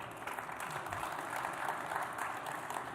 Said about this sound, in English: Give our panel a huge round of applause